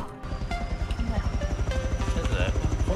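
A mini helicopter flies in the video game Rust, its rotor throbbing in a fast, steady pulse throughout. Voices talk over it the whole time.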